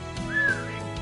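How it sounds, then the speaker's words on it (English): A man puts a few fingers in his mouth and lets out one piercing whistle, a short rising and falling tone heard alone over faint background hum. "Jeff places a few fingers in his mouth and lets out a piercing whistle"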